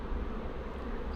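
Honey bees from a transferred swarm hum in a dense, continuous buzzing drone close by, steady and unbroken, with no voices.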